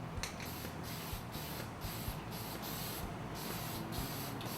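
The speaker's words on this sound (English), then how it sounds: "the next step is to apply the base color supplied. This is camo tan" Camo tan base coat being sprayed onto a part from an aerosol paint can in a series of steady hissing bursts with short pauses between them, close and fairly quiet, with no one talking.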